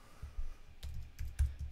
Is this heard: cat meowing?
no